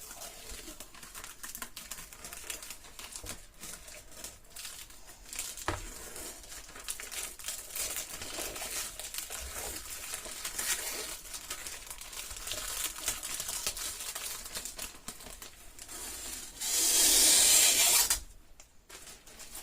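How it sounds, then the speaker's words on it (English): Protective film being peeled off wheelchair wheels ahead of an epoxy resin job: soft crinkling and rubbing patters run on and off close by, ending in a louder steady tearing rasp for about a second before going quiet. "let's do the very satisfying thing of peeling this film off."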